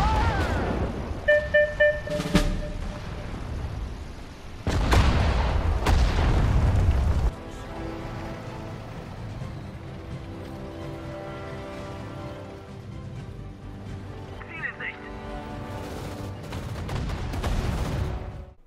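Battle sounds from the real-time strategy game Sudden Strike 4: scattered gunshots, then a heavy rumbling explosion, followed by further distant bursts and pops over a low ambient drone.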